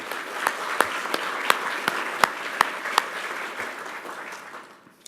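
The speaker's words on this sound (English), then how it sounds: "So if I can ask for a round of applause for the Motor team." A crowd claps steadily for several seconds, with a few sharper individual claps standing out, before the applause thins and fades away.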